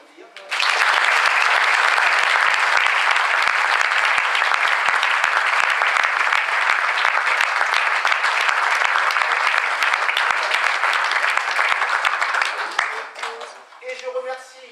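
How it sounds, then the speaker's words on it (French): An audience applauds music school students after a June concert in Cordemais, with sustained, loud, dense clapping that runs for about twelve seconds and then fades as voices appear at the end. "On peut les applaudir."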